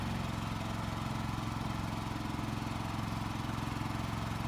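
A generator installed in a Rialta RV runs steadily with its cooling fan, a constant engine drone and airy whoosh that hold level throughout, close and continuous with no voices.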